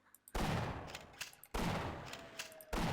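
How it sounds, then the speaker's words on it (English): Shotgun blasts in the video game Half-Life: Source, three loud booming shots spaced about a second apart, each with a sharp crack and a decaying tail. "This shotgun's such a fun weapon to use in this game."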